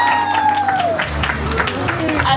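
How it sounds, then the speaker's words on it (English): An audience at a Polynesian dinner show claps and applauds for a performer, a dense patter of hands under an announcer's voice and a tonal musical sweep, close and loud. "Please give a round of applause for the lovely Auntie Mapuana."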